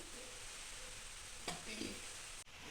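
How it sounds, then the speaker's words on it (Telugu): Cumin seeds sizzle in hot oil in a pan, a faint steady hiss with a brief stir and clink partway through. "నూనె వేడైన తర్వాత కొంచెం జీలకర్ర వేయాలి"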